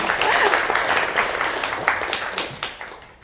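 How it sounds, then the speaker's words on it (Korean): A lecture audience claps, a full wash of applause that gradually tapers into scattered, separate claps, with some faint voices mixed in. "박수 한 번만요."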